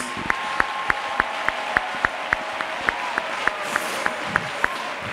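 An audience at a church testimony gathering claps together in a steady, even rhythm, a run of sharp, regular beats at moderate loudness.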